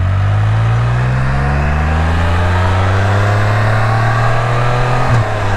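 A car on a rural Ohio road approaches and drives past, its engine note rising and sweeping steadily loud and close over several seconds before a brief shift near the end.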